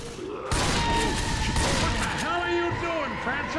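Continuous gunfire in Left 4 Dead 2, a dense barrage of shots starting abruptly after a brief quiet moment and running loud throughout, with voices talking over it.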